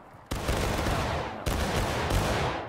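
Musket volleys in the Civil War game War of Rights: a sudden loud ragged crash of many shots at once, then another massed volley and a third swelling burst, each rolling and crackling before fading.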